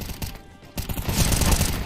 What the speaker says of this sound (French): t'as vu le shoot dans le FAMAS